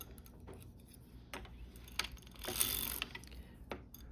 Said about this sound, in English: Now I'm lowering, wrapping the needles so the latches are open.